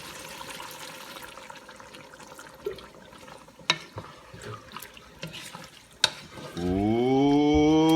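Water is poured into a pan of sizzling adobo, giving a steady hiss and bubbling with sharp pops and clinks of a utensil, then a rising tonal whine near the end.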